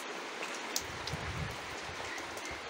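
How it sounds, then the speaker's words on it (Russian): Steady, soft rain patters continuously on surfaces, with a broad hiss and occasional louder drops close by. "Дождь очень теплый."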